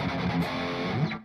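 Heavily distorted electric guitar through an STL Tonality amp simulator, miked with an SM57 toward the outer edge of the speaker, plays a short, loud, dense burst of riffing that cuts off abruptly after about a second.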